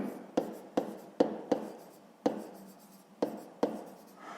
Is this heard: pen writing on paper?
yes